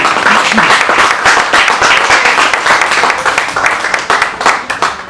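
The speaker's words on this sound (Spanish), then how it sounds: "Denle un aplauso al Señor por eso" A church congregation applauds loudly and continuously, a thick close wash of many clapping hands that stays strong for several seconds before tapering slightly at the end.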